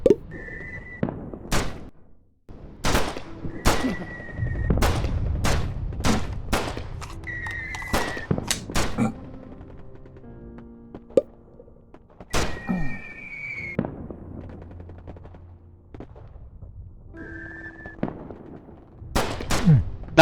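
Gunfire in the video game Daikon Hero: sharp isolated shots spaced irregularly with quiet gaps between them, alongside short whistling tones and a low rumble, with no talking.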